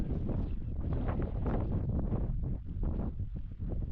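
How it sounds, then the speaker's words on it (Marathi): Strong wind blows across an open rural spot where cows are being herded, a steady low, buffeting roar that fills the mic continuously with no talk over it. "वारा कसलं सुटलंय हो भरा भरा."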